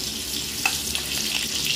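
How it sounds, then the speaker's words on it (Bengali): Whole potatoes, pricked with a fork and sprinkled with biryani masala, fry in hot oil for chicken biryani. The sizzle is loud, close and steady, with faint crackles and no voices. "আলু ভাজার সময় অল্প একটু বিরিয়ানির মশলা আমি ছড়িয়ে দিলাম।"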